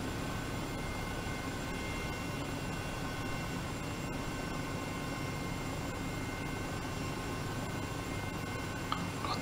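EC135 helicopter in Microsoft Flight Simulator 2020, a constant droning engine and rotor hum held at an even level throughout with no voices.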